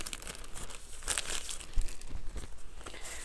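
A kraft paper envelope is handled up close, giving continuous crinkling and rustling with a few sharper crackles, steady and fairly loud throughout.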